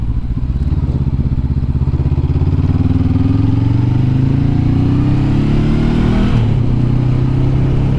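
Motorcycle engine climbing a narrow, freshly resurfaced mountain road toward the Mont Lozère summit, a loud close continuous drone whose pitch slowly rises as it pulls uphill, briefly shifting near the end.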